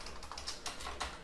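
Keystrokes on a computer keyboard while HTML is entered for a servlet form, a quiet uneven run of roughly eight separate taps with no talking.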